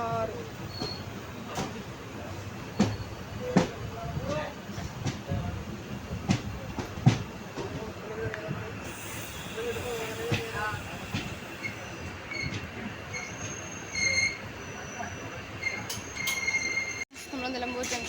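The Rajya Rani train from Nilambur runs on the rails with a steady rolling rumble, rhythmic clicks over joints and occasional high wheel squeals, heard from on board.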